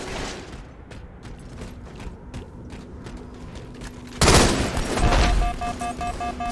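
Video game gunfire rattles in a steady rapid string of shots during a firefight with a sniper. It gives way to a louder, denser blast of firing and mechanical clatter, with no speech.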